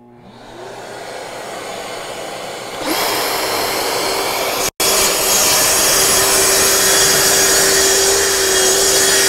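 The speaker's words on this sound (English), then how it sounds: "So I'm going to turn my vacuum on." A shop vacuum switches on a few seconds in and roars steadily to the end, a loud, even whoosh with a faint whine, briefly cutting out once.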